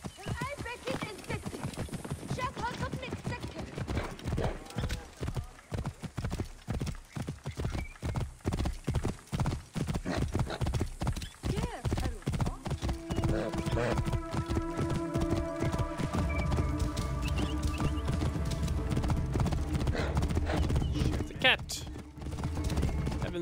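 A horse gallops in Assassin's Creed Origins, its hooves clip-clopping in a fast, steady rhythm close by, with a whinny near the end and a voice talking over parts of it.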